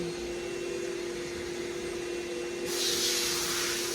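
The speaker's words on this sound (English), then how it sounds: "Bug remover spray." A steady, close hiss of bug remover spray on a vehicle starts partway through, rising over a constant background hum.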